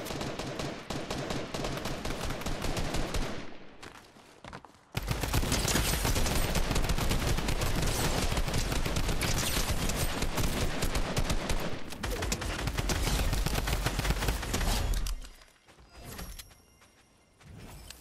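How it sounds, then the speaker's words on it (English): Drum gun firing in a video game, long dense bursts of rapid automatic shots, loud and sustained, with a short pause before the five-second mark and a tapering off near the end, no talk. "A drum gun."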